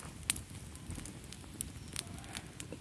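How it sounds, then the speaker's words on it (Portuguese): A wood fire for a festival bonfire eve crackles softly in scattered sharp pops over a low steady hiss, faint and with no talk. "o meu fogo está ótimo"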